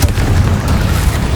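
One loud, close Confringo spell blast in Hogwarts Legacy booms with a heavy low rumble that fills the whole short moment, with no talking.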